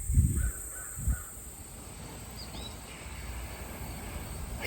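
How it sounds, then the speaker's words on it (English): Crows caw outdoors on a homestead, a few loud harsh calls at the start, then quieter distant caws over faint insect buzzing. "The crows are starting to come around."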